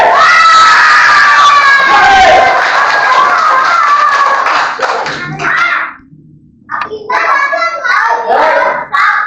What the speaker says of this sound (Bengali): সবাই আদিয়ানের জন্য হাততালি।